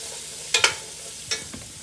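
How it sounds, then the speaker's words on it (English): A spoon stirs two green peppers in a hot cooking pan, giving a quick pair of scraping strokes and then a couple of softer ones over a faint steady sizzle. No one talks. "Give that a stir."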